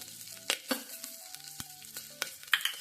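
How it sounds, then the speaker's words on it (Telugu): Three slit green chillies hit hot oil in a pan while vegetable kichidi is being made, giving a light crackling sizzle with a few sharp pops spread over a couple of seconds. "ఇక్కడ నేను పచ్చిమిర్చి ఒక మూడింటిని చీల్చి వేసేస్తున్నాను"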